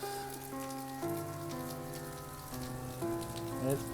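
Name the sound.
rain falling on Buffalo River Trail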